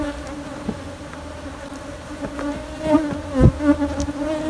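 Bees buzzing at a nest built inside a stack of three tyres, a dense continuous hum of many insects close by with individual bees droning past louder.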